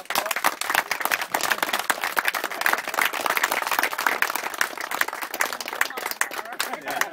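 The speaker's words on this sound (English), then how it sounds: "Give her a round of applause." A large audience at a trail awards ceremony breaks into sustained applause, dense steady clapping that fills the room from start to finish, with a few voices mixed into the crowd noise.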